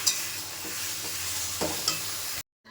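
Food with milk and a little flour being stirred and sautéed in a pan, a steady close sizzle with a few scraping spatula strokes, then an abrupt cut to silence near the end.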